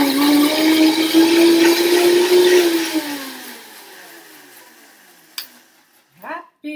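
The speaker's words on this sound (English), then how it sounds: "So let's blend this." A Vitamix blender whirs loudly and steadily as it blends an adrenal tonic, its motor pitch rising slightly before winding down into quieter spinning and a few brief clunks at the end.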